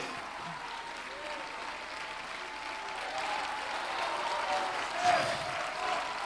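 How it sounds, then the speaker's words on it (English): A church congregation claps along during a sermon, a steady wash of many hands sustained throughout and swelling slightly louder toward the end, with a voice faintly present beneath. "Why don't somebody clap your hands"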